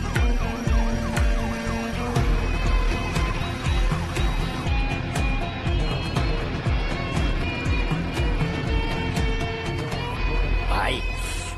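An ambulance siren wails through busy street traffic, its rising and falling tone running over rumbling vehicles and a dense, noisy background for the whole stretch.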